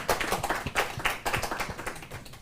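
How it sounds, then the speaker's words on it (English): Clapping from a remote Zoom audience after a humanities presentation at Virginia Tech, a brief patter of a few hands heard through a call, fairly faint and thin. "applause coming from Zoom land as well"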